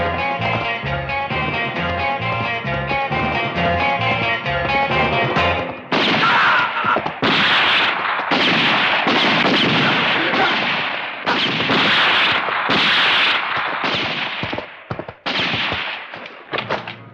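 Gunfire in a western film: after music, a rapid series of sharp, loud cracks and bangs rings out over several seconds, close and aggressive, with no speech.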